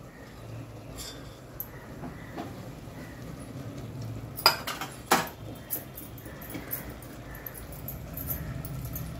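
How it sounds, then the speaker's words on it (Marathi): A spoon stirs chickpea and potato curry with coconut in a pot: soft scraping and clinks under a faint sizzle, with two sharp metallic knocks midway, close by and without voices. "आता ही भाजी आपण जेव्हा ढवळतोय तर अख्ख्या सगळ्या टोपाला लावायचं नाही"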